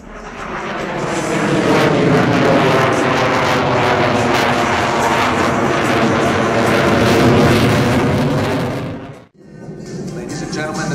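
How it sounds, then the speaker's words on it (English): An F/A-18 Super Hornet performs a flat pirouette at an air show, its loud jet engine roar swelling and sustained, with shifting tone as it maneuvers, then dropping away briefly before returning. "Ladies and gentlemen, the Super Hornet flat pirouette."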